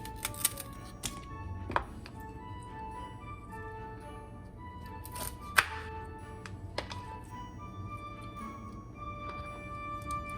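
A knife trims the ends off celery on a cutting board with a few sharp, isolated taps spread out over quiet background hum.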